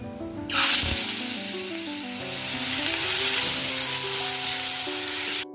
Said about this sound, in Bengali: এদিকে আমি রান্নাও বসিয়ে দিয়েছি প্রথমে এই ভাজা টাজাগুলো করে